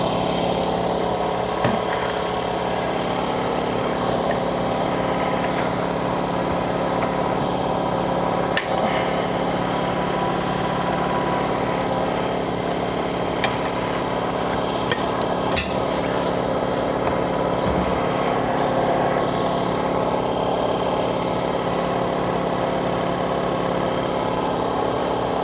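A Mayflower tire changer strains to mount a 37x12.50R20 tire, giving a steady, loud motor drone with a few sharp knocks and clanks over roughly twenty-five seconds, and no talk.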